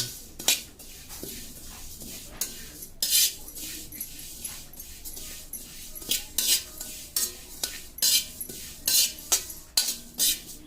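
Cumin seeds are dry-roasted in a pan while a metal spoon stirs and scrapes against it, giving repeated sharp clinks and scrapes in an uneven rhythm over a faint sizzle, close by.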